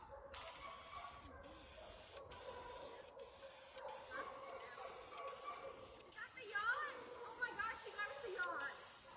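Aerosol spray paint hisses in short bursts as a duck boat is painted outdoors. The hiss is faint and thin, with small clicks and rattles between passes.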